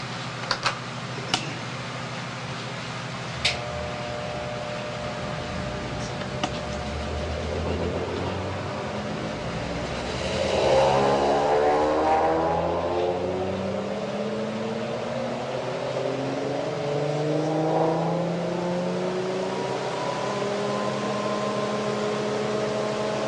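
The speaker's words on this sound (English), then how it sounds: "going to accelerate the motor up to about 257 volts here" An electric motor on a bench generator rig spins up, a rising whine whose tones climb steadily over several seconds and then hold at a high pitch, with a few sharp ticks early on, close and fairly loud.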